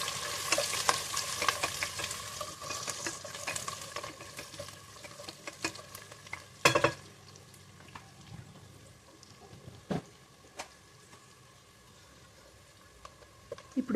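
Chopped carrot pieces fry in hot oil in a pan while being stirred for bagara rice, giving a steady sizzle broken by scraping strokes and a few louder knocks, with no talk.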